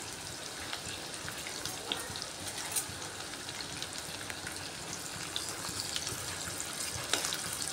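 Chopped onions frying in hot oil over a medium gas flame, a steady soft sizzle and crackle with occasional stirring clicks, close and fairly quiet, no talking.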